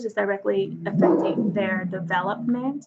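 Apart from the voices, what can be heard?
dog barking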